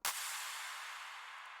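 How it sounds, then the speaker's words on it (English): The signature clap sample from a track: one sharp, bright hit followed by a long, airy, washing tail that fades only slightly, heard alone. "Of course, the signature clap."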